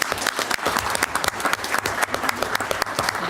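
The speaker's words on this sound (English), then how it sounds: "can we give you all a round of applause" Audience applause for teachers at a school board of education meeting, a close, lively burst of many people clapping with distinct individual claps audible in the mix, steady and fairly loud.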